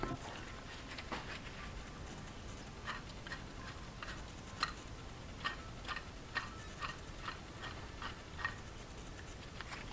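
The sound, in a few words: used BMW X5 M54 water pump spinning noise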